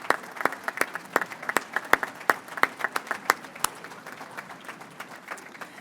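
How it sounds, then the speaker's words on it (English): An audience at a college commencement ceremony applauds the alumni with steady, dense clapping from many hands, close and lively throughout, with no talk over it. "Let's give them a round of applause."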